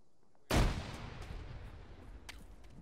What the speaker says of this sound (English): Frag out into this building southeast.